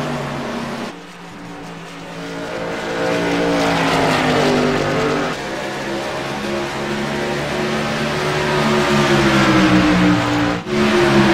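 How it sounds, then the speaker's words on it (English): Race cars battle hard around a track during a televised race, engines roaring loudly and continuously with pitch swelling and sliding as the pack passes, one car's note rising above the others near the end. "Guys racing each other very good, very hard out there."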